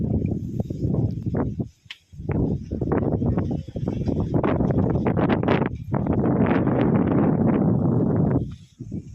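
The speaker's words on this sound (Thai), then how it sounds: "ที่นี่ลมมาเป็นลูกๆครับเพื่อนๆ" Strong, gusty wind sweeps across the open ground at Jet Kot in Saraburi, buffeting the microphone in repeated loud bursts with only brief lulls between them.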